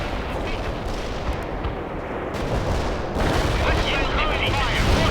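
Heavy gunfire and artillery in the video game World in Conflict: dense, loud volleys of shots and booming blasts roll on without pause, swelling louder toward the end, with radio-style voices mixed in.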